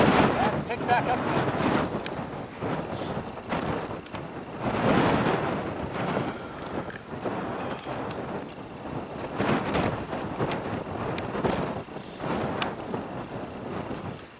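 Gusty wind at an outdoor long-range shooting range, roaring across the microphone in rising and falling surges, with people talking intermittently over it.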